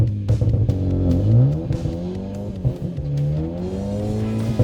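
Manual car pulling away from a clutch launch in first gear, engine note rising steadily and clearly from inside the cabin, with a brief dip and swell as revs climb, no talking.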